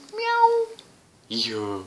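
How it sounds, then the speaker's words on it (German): A house cat meows twice in a dim apartment room, two clear drawn-out calls separated by a short pause, close and fairly loud with nothing else going on. "Das da ist meine Katze."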